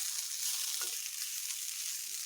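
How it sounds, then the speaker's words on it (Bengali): Figs fry in a little oil, a faint, even hiss of sizzling with one brief stir, no talking. "আমি আর কিছুক্ষণ ভেজে নেব আমি এই রান্নাটি একটু অল্প তেলেই করছি"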